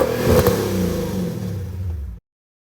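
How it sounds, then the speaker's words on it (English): A BMW E39 M5, lowered on KW coilovers and fitted with an Eisenmann exhaust, revs hard with a loud, rising blip early on, then holds a deep throbbing drone before cutting off abruptly. "it's got Eisenman exhaust, which actually sounds pretty great."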